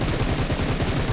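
Rapid automatic gunfire from a shooter video game sounds loud and close, a dense unbroken rattle of bursts.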